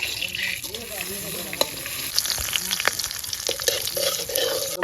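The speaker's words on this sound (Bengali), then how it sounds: "এখন ডালবো তেজপাতা, জিরা, দালচিনি, ব্ল্যাক পেপার, এই যে তেলে।" Bay leaf, cumin, cinnamon and black pepper fry in hot oil for a village-style Bengali shellfish curry, giving a steady close crackling sizzle with scattered sharp pops and the occasional scrape of stirring, with no talking.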